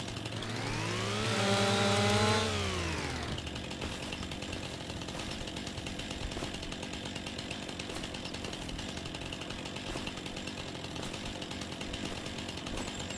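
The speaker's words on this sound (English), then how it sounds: "Alright, we'll just try to use the chainsaw." A chainsaw cutting wood in Farming Simulator 25 revs up with a rising, falling whine, then settles into a steady, loud buzzing drone as it bites through the timber, with no talk.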